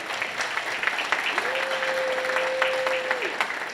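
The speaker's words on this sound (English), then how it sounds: "Can we give him a big round of applause?" A crowd at a high school senior parent night applauds steadily for a few seconds, dense clapping with a brief tonal hum rising through the middle.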